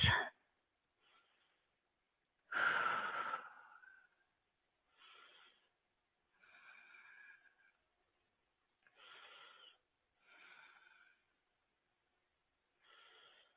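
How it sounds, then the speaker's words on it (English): Slow, deep breaths during a quiet yoga session, with about eight soft inhales and exhales spaced a second or two apart. The breaths are faint and close against near silence, and one is louder and sharper. "Take a couple deep breaths."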